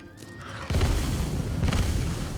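A sudden loud booming blast erupts from the fantasy video game Divinity: Original Sin and keeps rumbling and crackling with a second surge of detonations, dense and close with no voices.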